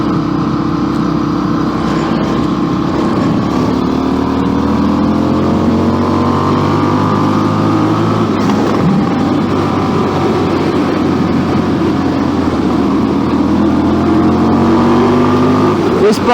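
A motorcycle cruises at speed on a six-lane highway with a loud, steady engine drone and rushing wind, and the engine pitch drifts up and down throughout.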